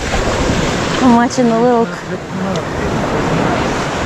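Surf washes in steadily on the beach at Lido Key as the tide comes in, a broad continuous roar with wind noise, while a person talks briefly over it.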